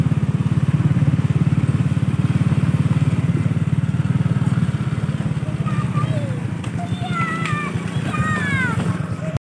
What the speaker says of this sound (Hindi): पीछे से आ रहा किड्स बाइक।